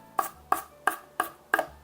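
A knife chops vegetables on a cutting board in five quick, evenly spaced sharp thuds, close and crisp, with no talking.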